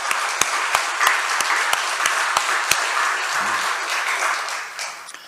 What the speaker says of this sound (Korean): 우리 하나님께 영광의 박수를 한번 드리겠습니다